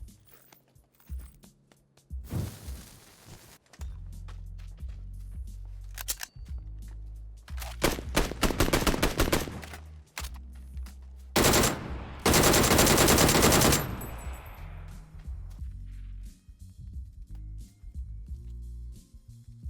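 Bursts of DP-28 machine gun fire in PUBG, several loud sustained volleys separated by quieter stretches with footsteps and movement.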